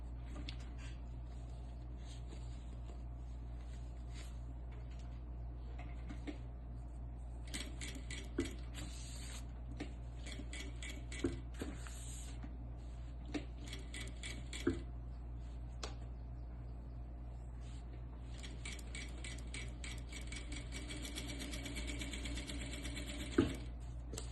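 A home sewing machine fitted with a size 9 needle stitches a cloth diaper along a traced line, a low steady motor hum with rapid needle clatter in runs and brief pauses.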